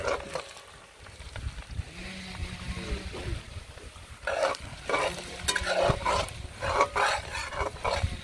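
Chopped ginger and garlic frying in a pan for beef peralan, a continuous soft sizzle and hiss with occasional stirring clatter that grows busier and louder in the second half.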